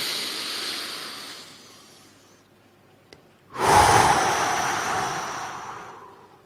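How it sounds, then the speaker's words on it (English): A massive, slow deep breath drawn in, starting after a quiet pause and swelling into a loud, close, airy inhale that holds for several seconds, following a fainter earlier breath. "Take a massive breath in."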